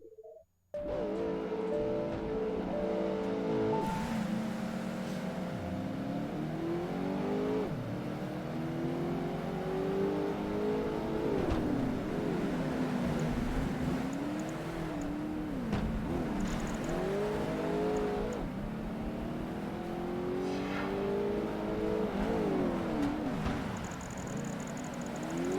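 Ford GT40 race car engine in Project Gotham Racing 2 on a city street circuit, loud and continuous, rising and falling as it revs through gear changes and corners, with occasional tire noise and no talking.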